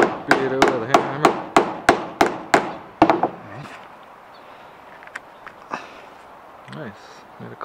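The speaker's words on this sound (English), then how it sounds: "And then beat it with a hammer" About nine sharp metallic hammer blows strike a grommet setter in quick, even succession while fixing a grommet into a car cover, then stop; afterward scattered light knocks and handling sounds follow quietly.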